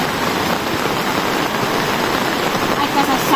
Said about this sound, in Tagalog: Ito, sasabay pa yung ulan.